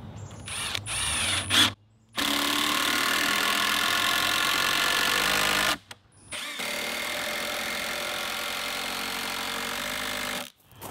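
A power drill drives 6-inch deck screws into treated wood in long continuous whirring bursts, three runs split by brief pauses, close and loud with no talking.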